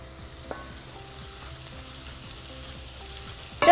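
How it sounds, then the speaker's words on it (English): Papaya stir-frying in a pan for a Kerala-style dish gives a steady close sizzle with scraping stirs, a sharp clatter near the start and a louder burst at the end. "We are going to add all our papaya to our pan."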